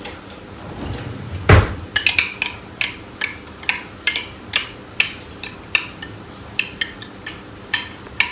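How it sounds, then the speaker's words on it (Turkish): A spoon scraping tahini out of a glass into a pan for tahini halva, a run of sharp metal-on-glass clinks and taps repeating every half second or so, close and distinct over quiet background. "Tavanın içine bir su bardağı tahinimizi koyuyoruz. Bir tane kaşıkla sıyıralım."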